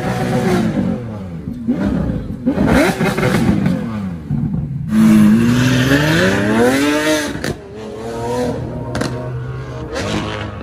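A Lamborghini Aventador SVJ's exhaust is revved repeatedly, with sharp rising roars that swell, hold and drop away over about ten seconds, loud and close.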